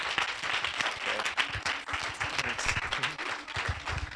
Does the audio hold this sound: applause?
yes